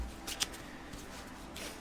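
Gold foil tarot cards are shuffled quietly in a few soft, papery riffling bursts, close by and faint.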